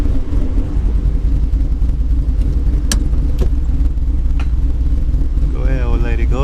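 The engine of a tuned V6 Ford Mustang rumbles loudly and steadily at close range, with a few sharp clicks over the idle and a voice coming in near the end.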